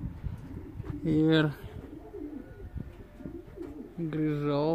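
Racing pigeons coo in two short bursts near their loft after a hawk attack, with a voice talking quietly between the calls.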